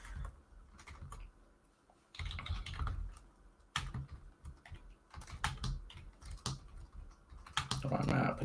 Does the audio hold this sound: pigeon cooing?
no